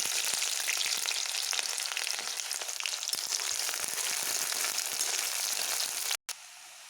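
Onions frying in hot oil beside potatoes, coriander, ginger and garlic, giving a loud, steady crackling sizzle that runs nearly unbroken, then cuts off sharply near the end and resumes more quietly.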